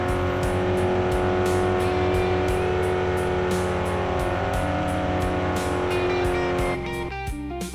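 Car engine revving in a racing video game, a loud, continuous high-pitched whine with rising and falling revs and tonal harmonics, dropping away near the end.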